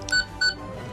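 A Doctor Who sonic screwdriver toy gives two short, bright electronic beeps in close succession, clear and close, with no talk.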